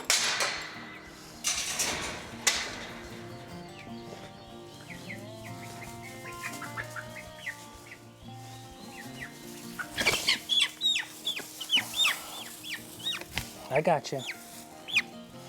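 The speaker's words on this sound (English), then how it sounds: "I've located the chicken." Chickens cluck and squawk in a barn stall as a person scoops one from under a feeding trough with a net, with bursts of flapping and commotion toward the end, and a person talks quietly throughout.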